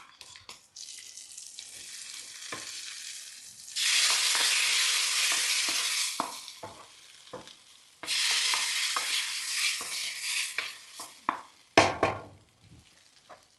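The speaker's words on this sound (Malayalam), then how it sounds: "അപ്പോൾ നമ്മളെ കൂട്ടുകാർക്ക് വേണ്ട വറവ് തയ്യാറാക്കലാണ്." A tempering for koottu curry fries in a pan, with loud sizzling bursts that start and stop, mixed with stirring clinks and a splash of running water near the end.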